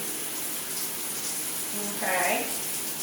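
Water sprays steadily from a newly installed shower head, a continuous hiss that swells louder near the end as the flow hits something close by.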